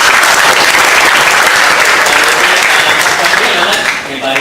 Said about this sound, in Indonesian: Tepuk tangan buat Kang Bima